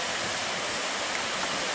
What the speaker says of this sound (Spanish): Mirá la cascada que tenemos.